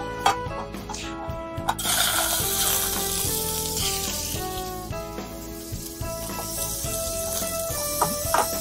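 Oysters fry in oil in a pot, giving off a steady close sizzle that runs throughout beneath prominent background music.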